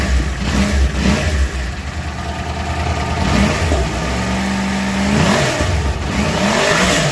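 A motorcycle engine idles after an overhaul in a workshop, a close, steady low rumble with slight throttle blips and a mild rise in revs partway through, no voices.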